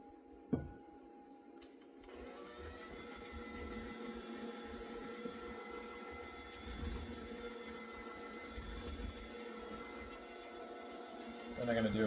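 An electric mixer running on low speed beats cake batter as flour is added, a steady motor hum with whirring that continues through the whole stretch after a sharp knock near the start.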